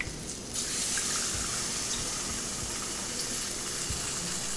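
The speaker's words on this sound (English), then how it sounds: "I'm going to add about cupful of water to this and I'm going to cook the mango pieces now." Water gushes steadily into a pan of raw mango pieces, a close, continuous pouring rush that starts abruptly and runs on without talk.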